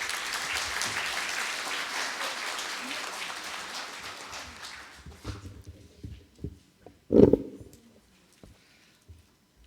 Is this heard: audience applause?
yes